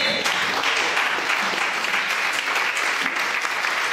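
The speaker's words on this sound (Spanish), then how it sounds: "Denle un aplauso al Señor." Church congregation applauding, a dense, sustained burst of clapping from many hands filling the room, steady and fairly loud throughout without any talk over it.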